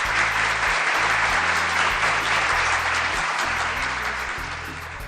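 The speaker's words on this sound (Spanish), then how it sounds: "Denle un fuerte aplauso a Papito Dios" Sustained, dense applause from a church congregation fills the room, loud and even with no break, easing slightly toward the end.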